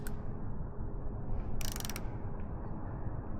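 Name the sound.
torque wrench tightening motorcycle frame slider bolt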